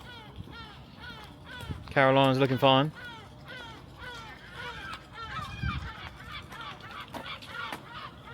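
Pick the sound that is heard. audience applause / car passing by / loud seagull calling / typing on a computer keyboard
loud seagull calling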